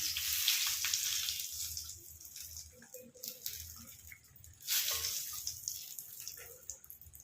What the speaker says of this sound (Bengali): আর এদিকে বেগুন ভাজা হচ্ছে